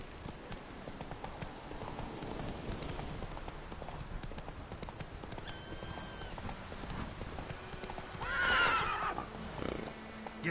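A horse in The Witcher 3 gallops with rapid rhythmic hoofbeats throughout, then lets out a loud, close neigh near the end, with a brief shout from a rider.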